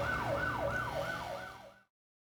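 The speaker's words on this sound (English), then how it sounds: "they heard police sirens" A police siren in the video game Deadly Premonition 2, wailing up and down in steady cycles over a low engine-like hum before cutting off abruptly.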